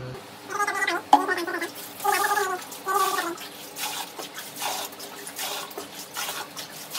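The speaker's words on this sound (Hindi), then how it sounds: "तो उसका वो सर्फ वाला पानी फुल गिरा देता हूँ अभी" Soapy detergent wash water being poured out at home, splashing and gurgling in repeated surges of a second or so, loud and close, with no speech over it.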